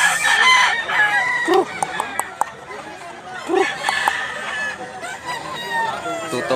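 Roosters crow repeatedly and hens cluck at a Cebu chicken farm selling yellow-legged and white-legged gamefowl, with several loud crows rising over steady clucking and someone talking nearby.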